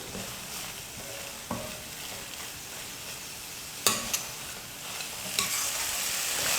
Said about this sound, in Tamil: ஒரு 2 நிமிஷத்துக்கு மாங்காய் நல்லா வதங்கட்டும்.